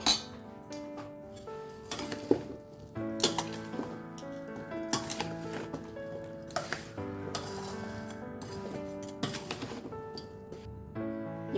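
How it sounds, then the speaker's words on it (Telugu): Mango pieces soaked in oil are mixed with spice powders for Andhra avakaya pickle, giving repeated clinks and scrapes of a utensil against a steel vessel, uneven and close, with tonal ringing between strokes. "అని మొత్తం మసాలా పొడులని వేసుకొని మిక్స్ చేసుకోవాలి"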